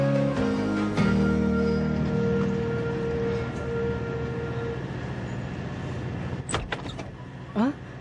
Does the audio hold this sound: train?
yes